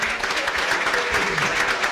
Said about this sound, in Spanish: Aplausos pues para la hermana Patti